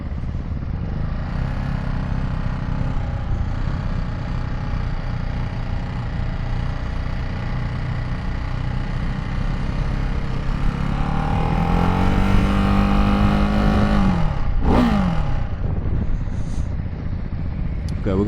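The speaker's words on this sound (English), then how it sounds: "just enjoy the bike and the sound" A Ducati Hypermotard 698 single-cylinder motorcycle engine is heard while riding, a loud steady drone under wind with rising revs near the end and a sharp gear-change sweep, close to the rider.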